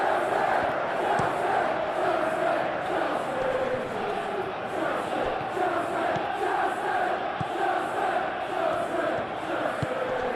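Simulated stadium crowd in PES 21 during a Chelsea vs Brentford Premier League match, a steady dense roar of cheering and chanting that holds loud throughout with occasional swells.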